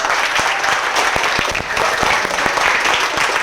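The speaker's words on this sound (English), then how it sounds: "let's give again a big clap to your teachers" Loud, dense applause from an audience clapping for their teachers at a school gathering, sustained and even throughout with sharp individual claps standing out near the front.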